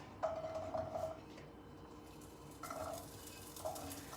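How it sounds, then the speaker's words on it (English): Vegetables stir-fry in butter in a pan over a high flame, with a soft steady sizzle beneath intermittent scraping and stirring clinks of a utensil against the pan, close by and without talk. "I'll be using this a little bit of butter again, and some veggies to stir fry"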